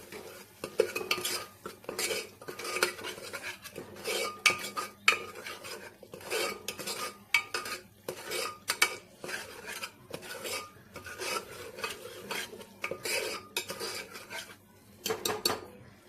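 Spiced mixed vegetable bhaji with Kolhapuri chilli powder and black masala being stirred in a pan, close scraping and clinking of a metal spoon against the pan in steady repeated strokes, with no talk.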